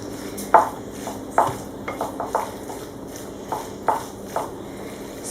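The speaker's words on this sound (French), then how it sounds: "Je vais tout mélanger." Spoon stirring tapenade of green and black olives with cumin and lemon juice in a bowl, several separate scraping clinks spaced irregularly, close and moderately loud with no talk.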